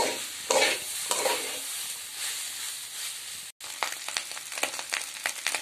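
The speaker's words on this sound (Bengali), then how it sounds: "আমি আরো কিছুক্ষণ সময় এই সবজিটা ভাজবো" Vegetables for khichuri fry in a pan with a loud, steady sizzle and hiss. A brief gap breaks the sound midway, then it resumes with scattered spatula scrapes and taps, close and unaccompanied by talk.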